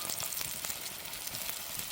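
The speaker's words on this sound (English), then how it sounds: "They've been cooking, I'd say a total of 5 minutes over this fire on that cast iron skillet." Shellfish cook in a cast iron skillet over an open fire, giving a steady, close crackling sizzle with small pops scattered throughout and no voices.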